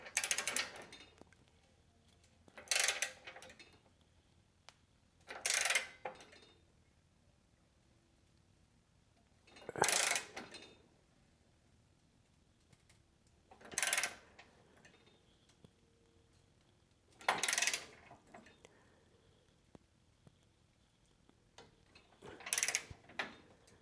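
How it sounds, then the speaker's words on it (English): A 3/8-inch digital clicker torque wrench set to 30 foot-pounds gives seven or so sharp, isolated clicks spaced a few seconds apart, close and fairly quiet, with near silence between them and no talk. "So let's just torque it down real quick."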